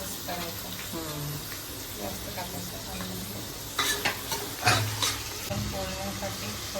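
Onion and bay leaf frying in a pan, with curry leaves, for a pressure-cooker chicken biryani: a steady close sizzle with scraping stirs, busier near the end, and a faint voice in the background.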